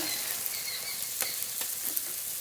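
Onion, tomato and ginger paste frying in a pan, a steady soft sizzle with a few sharper crackles and stirring scrapes, moderately close and alone.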